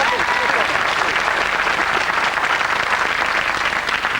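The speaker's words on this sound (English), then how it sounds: "Nice round of applause." Studio audience on a 1989 UK television game show breaking into enthusiastic applause, dense loud clapping sustained evenly throughout with a host's voice faintly under it.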